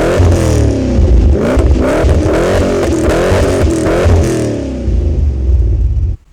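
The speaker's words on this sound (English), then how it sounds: "a chrome-tipped sports exhaust system, which sounds pretty impressive" A 1997 Holden HSV Clubsport VS Series 2 revs hard through its chrome-tipped sports exhaust, loud and close, the engine note climbing and dropping across several blips before cutting off at the end.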